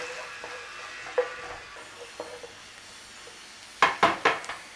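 Onions and garlic fry in a pan with a quiet sizzle, broken by a few soft stirring knocks. A cluster of louder scraping clatters comes near the end.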